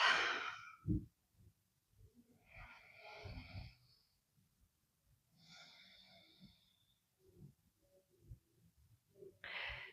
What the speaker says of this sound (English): let's take a moment to breathe